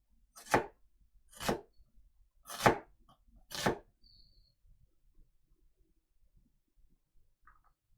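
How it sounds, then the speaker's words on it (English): Four sharp, evenly spaced knife chops on a cutting board while a shallot is minced, close and crisp, followed by a quiet pause. "Shallot peeled and minced."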